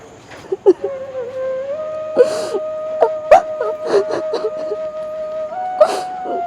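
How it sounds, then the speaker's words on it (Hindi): A girl cries in sobbing, wailing bursts with gasping breaths, fairly near, while a faint steady tone runs underneath. "किसी के रोने की आवाज आ रही है वहां से।"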